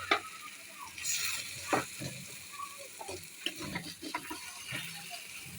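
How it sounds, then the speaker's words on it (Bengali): Mashed olives with bay leaf fry in oil for a Burmese-style olive pickle, a soft, fairly quiet sizzle broken by intermittent clicks and scrapes of stirring. "তো এখন দিয়ে দিলাম ম্যাশ করা জলপাইগুলো। এখন আমি তেলে ভেজে নেব।"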